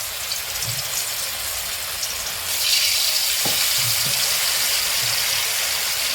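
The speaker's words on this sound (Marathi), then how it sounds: "तर हे मी वडे तळायला लागले हे तो तूप मी घातले आता ह्या तुपात तळायचं" Potato vadas frying in ghee, a steady hiss of sizzling oil that swells louder partway through, with a few soft clinks from a utensil.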